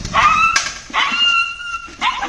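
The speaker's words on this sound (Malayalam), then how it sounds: "വിനോദ് കുമാറിന്റെ നേതൃത്വത്തിലുള്ള സംഘമാണ് ഏറെ പണിപ്പെട്ട് ഗേറ്റിന്റെ കമ്പികൾ മുറിച്ച് നായെ രക്ഷപ്പെടുത്തിയത്" A dog trapped in the bars of an iron gate yelps and whimpers in three loud, high-pitched bursts with short pauses between, close by.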